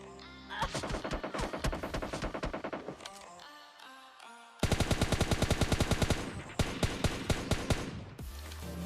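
Rapid bursts of automatic gunfire trade back and forth in a shooter video game, loud and dense with dozens of fast shots in long strings, a short lull, then more heavy volleys.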